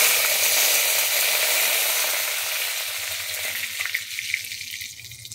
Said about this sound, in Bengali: এরপর আমি দিয়ে দিচ্ছি সর্ষে, কালো সর্ষে, আর দিচ্ছি জিরে। এবারে আমি দিয়ে দিচ্ছি কারি পাতা।